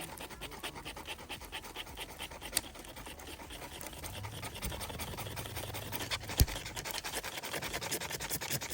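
A scraper rasps along a magnesium fire starter outdoors in Kings Canyon over a patch of twigs, in quick, steady, rhythmic strokes that run close and continuous, with no talking.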